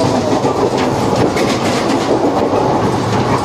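A passenger train on the Pune to Mumbai line rolls along the rails with loud, continuous rumbling and rhythmic clickety-clack from the wheels, close up and unbroken, with no talking.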